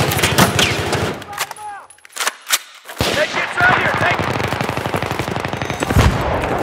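Loud bursts of automatic suppressing fire in the video game Battlefield 3, rapid shots in clusters with a brief lull midway, then sustained rattling resumes, with voices shouting over the gunfire.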